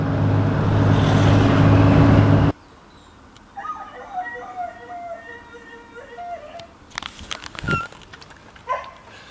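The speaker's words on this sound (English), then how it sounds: "That's the weirdest bark I've ever heard in my life." A short burst of loud noise cuts off, then an odd, yelping bark-like call with squeaky, wavering tones, followed by a few sharper barks and rustles.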